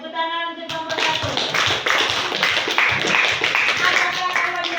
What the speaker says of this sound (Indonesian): tepuk tangan untuk nomor 1